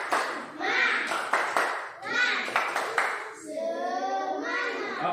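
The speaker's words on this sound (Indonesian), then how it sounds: "Mari kita tepuk semangat untuk kelompok 1 dulu." A classroom group of children claps a rhythmic spirit clap in sharp, quick patterned bursts, with children's voices chanting and speaking over and between the claps.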